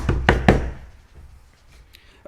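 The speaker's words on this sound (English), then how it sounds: "A ferocious knock at the door erupts." A ferocious knock at a door as a sound effect in a live table read: three heavy, close, rapid thuds, then a quiet room tone.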